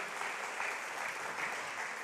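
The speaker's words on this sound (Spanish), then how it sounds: "dale fuerte el aplauso al Señor." Steady, dense applause from a church congregation, a continuous wash of many hands clapping at even loudness for a couple of seconds with no voices over it.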